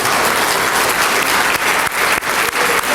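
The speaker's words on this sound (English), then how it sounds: "A big round of applause for these folks" Lively, close crowd applause at a community awards dinner honouring nominees, a continuous dense patter of clapping with a few sharper individual claps standing out.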